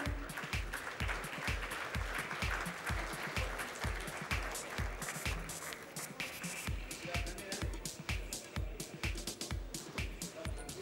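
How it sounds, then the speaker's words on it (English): Audience at the Tech 2018 keynote session claps for dignitaries, with a sustained wash of applause and steady rhythmic thumps running through it, carried on a background of crowd noise. "let's give them a huge round of applause"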